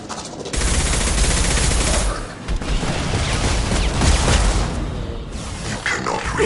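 Dense gunfire from a Mass Effect 2 firefight rattles on almost continuously, loud and close, with bursts overlapping and a brief dip near the middle.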